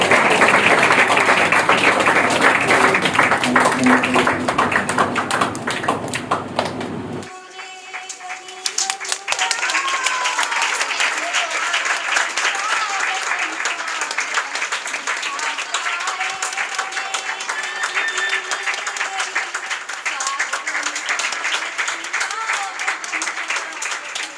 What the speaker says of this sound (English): Clap for him for giving this precious time.